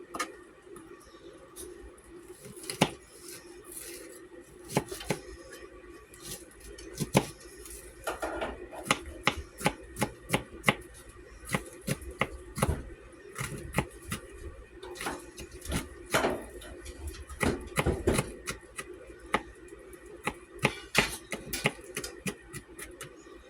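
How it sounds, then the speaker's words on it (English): A knife chops food for a chicken, rice and peas casserole on a cutting board, with a steady run of sharp, close taps that speed up into dense bursts and carry on throughout with no talking. "I think I got that chopped up pretty small, pretty fine."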